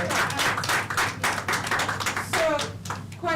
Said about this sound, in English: I thought I'd get a round of applause or something.